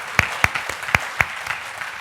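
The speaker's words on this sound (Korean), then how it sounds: "이런 건 박수도 한번 쳐주고 이렇게 해야 되는데" A church congregation gives scattered applause during a Sunday worship service. A handful of separate, sharp hand claps ring out at an uneven pace in a quiet room.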